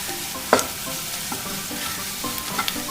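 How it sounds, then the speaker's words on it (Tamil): Spiced wheat flour mixture being stirred and fried in a pan, with steady close sizzling and a sharp spoon scrape against the pan partway through, plus lighter clinks near the end. "இப்போ இதெல்லாம் நல்லா மிக்ஸ் பண்ணிக்கோங்க"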